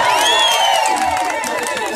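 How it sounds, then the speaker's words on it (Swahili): Crowd at a political rally in Kenya cheering and whooping loudly, a dense burst of voices with some clapping for a couple of seconds. "mbigeni makofi jamani"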